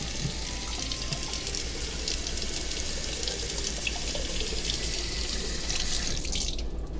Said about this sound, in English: just rinse it out by draining that water